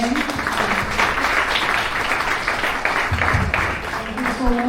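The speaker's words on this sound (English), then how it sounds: "A big round of applause again." An audience gives a round of applause after a Bhagavad Gita talk, a dense burst of clapping, with a voice briefly audible at the start and end.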